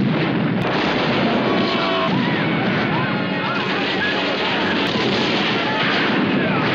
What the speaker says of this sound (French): Il va y avoir des explosions un peu partout